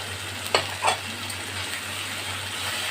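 Tomato puree added to a hot frying pan for a Bengali ridge gourd malai curry, a steady close sizzle with two short sharp spatters near the start and a faint low hum beneath.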